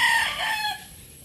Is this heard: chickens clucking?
yes